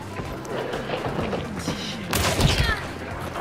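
Gunshots in the multiplayer shooter Hunt: Showdown boom as a few heavy, thudding reports, with one sharper, louder blast late, all over a dim background.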